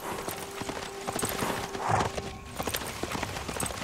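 Hooves of a mounted Saka horse archer clip-clop steadily in Civilization VI, a close, even gallop rhythm over a low hum of game music, with a brief tonal chime midway.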